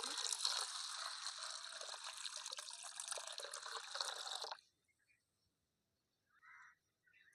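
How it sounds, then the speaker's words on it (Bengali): Water pours over lentils in a bowl for soaking, a bright, close splashing stream for about four and a half seconds that stops abruptly, followed by near silence and a faint later trickle. "তো এই যে জল দেওয়া হয়ে গেলো"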